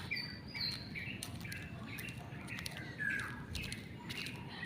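Several birds squawk and chirp in short repeated calls over a steady outdoor background hiss, moderately distant and fairly faint.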